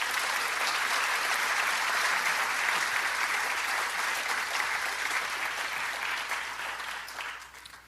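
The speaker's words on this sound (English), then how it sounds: "Would you please give them a round of applause?" Sustained applause from an audience at a public library community conversation on the Affordable Care Act, a dense, steady wash of many hands clapping that holds evenly for several seconds before tapering off at the end.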